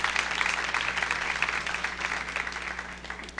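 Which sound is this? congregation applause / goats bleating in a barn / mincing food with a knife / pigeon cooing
congregation applause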